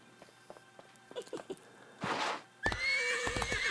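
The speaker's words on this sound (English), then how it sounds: "And that should get me the horses that I need for the Scarab chase." Horses in the Aladdin Scarab Chase level of Disney Infinity 3.0 neigh and whinny in a loud burst, then a longer whinny, with soft hoof clip-clops before them and no talk.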